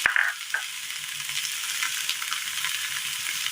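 Onion, eggplant and green chili sauté in a little oil, giving a steady, close sizzle that holds through the whole stretch after a brief louder hiss at the start, with no voices.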